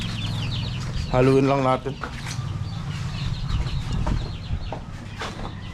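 Chicks peep and cluck close by while being given milk and feed, a busy chorus of short calls under a voice.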